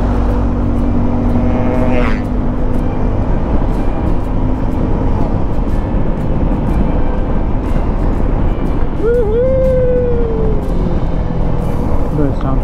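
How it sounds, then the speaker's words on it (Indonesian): A Suzuki V-Strom 250 SX motorcycle ridden fast on a coastal road gives a constant loud engine drone mixed with heavy wind roar throughout, with a brief rising whine near the end. "gila kencang banget motornya."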